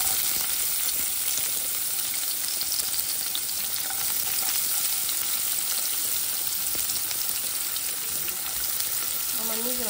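Onions fry in hot oil with a dense, constant sizzle and crackle, loud and close for the whole stretch, no voice heard.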